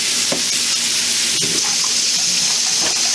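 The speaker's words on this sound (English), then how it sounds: "so she just gave it to me so I had to wash my hands" Hands being washed under a running kitchen tap, a steady close wash of water with small splashes and clatter throughout.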